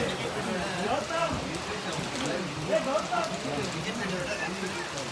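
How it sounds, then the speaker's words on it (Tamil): Heavy rain pours down steadily over a cricket stadium, a dense wash of drumming and splashing throughout, with voices talking faintly over it. "பாருங்க செம்ம மழை பெய்யுது."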